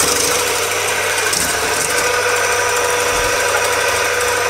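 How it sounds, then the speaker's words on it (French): Three egg whites for a pavlova are whisked in a bowl with an electric mixer, a steady, loud whirring buzz with a faint rattle that continues throughout, with no talking. "on fouette nos blancs d'œufs, nos 3 blancs d'œufs, avec un appareil, un robot, ou comme ça"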